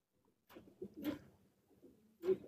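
Pigeons cooing close by, three short muffled throaty coos spaced across a quiet background.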